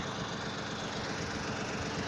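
A Yanmar YM 2220 tractor engine drones steadily while plowing, a loud, continuous close-up chug with a constant low rumble and no speech over it.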